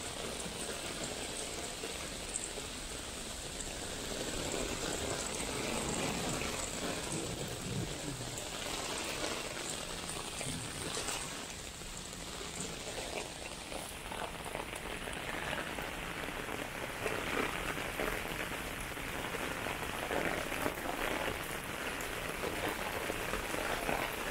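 Steady heavy rain falls during a midnight thunderstorm in downtown Toronto, a dense continuous patter on surfaces and pavement that stays loud and even throughout, with no speech.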